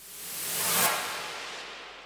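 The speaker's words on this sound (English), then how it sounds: "what I'm gonna do is actually add reverse sounds like this" A reversed sound effect, made in FL Studio as a lead-in to drums, swells up gradually to a sharp peak, then trails off in a hissy wash, heard alone.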